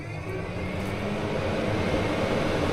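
Steady whirring fan drone with a low rumble, continuous and fairly loud, from a camper van roof vent fan running close by.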